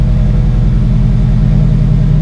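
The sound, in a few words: loud aftermarket exhaust with Tsudo header, Subaru BRZ/FRS/GT86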